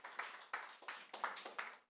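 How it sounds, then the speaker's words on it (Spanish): Congregation clapping in a church, a short run of loud, rhythmic claps in an even pulse, close and dry with no voices over it. "Dele un aplauso al Señor"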